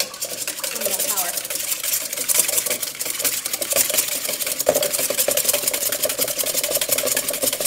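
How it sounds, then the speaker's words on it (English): An electric mixer whirs steadily while whisking egg whites, a continuous buzzing motor hum running through the whole stretch with no break. "Now, you can use an electric mixer if you want, or just regular."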